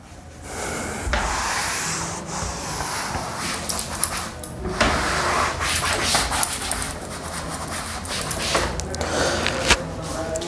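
Someone rubbing writing off a classroom board with steady scraping and wiping strokes, a continuous rough friction texture at close range with brief knocks.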